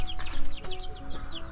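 Caged chickens cluck and squawk in short bursts, several birds close by, with a steady low background hum underneath.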